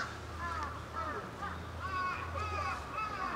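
Crows cawing in a sunny city park, a series of hoarse caws repeating at a steady pace at moderate distance, fairly faint over a low background hum with no talk.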